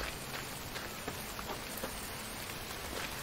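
Heavy rain pours steadily in the survival game The Infected, a dense, even hiss of drops with faint scattered patters, continuous and alone with no talk.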